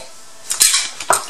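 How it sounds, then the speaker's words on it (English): Steamed rice is spooned into a very small serving bowl for Thai fried rice, giving a few close, sharp clinks and scrapes of utensil against dish in quiet surroundings. "I'm gonna put in very tiny bowl there to serve."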